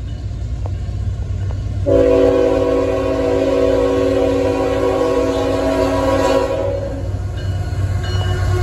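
A Norfolk Southern ET44AC locomotive leads freight train 38G past at close range, its loud horn chord sounding steadily for several seconds over the heavy rumble of the rolling train.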